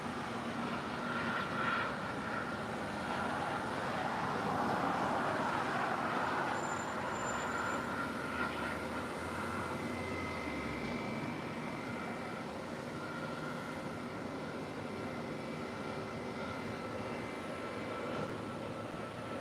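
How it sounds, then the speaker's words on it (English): A Korean Air Boeing 777-300ER taxis toward the gates at LAX. Its engines make a steady, broad jet roar at a moderate distance, continuous throughout with no talking. "That's Korean Air 777-300ER now makes her way to the gates."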